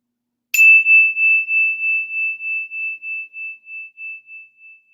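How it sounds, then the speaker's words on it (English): A chime struck once rings out as a clear, bright tone that slowly fades over about four seconds with a gentle pulsing shimmer, alone with no talking. "And then I ding the chime."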